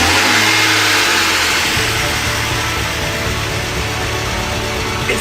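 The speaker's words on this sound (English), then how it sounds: "There's nothing that says that this car should not start up." An abandoned BMW E36 engine cranks, catches and revs loudly up close, a rough, strained mechanical roar that holds steady with uneven idle underneath.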